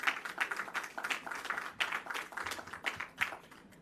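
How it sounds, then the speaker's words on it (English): Quiet applause from an audience at a medical equipment handover ceremony, heard as a scattered patter of clapping that continues steadily throughout. "I think that deserves a clap"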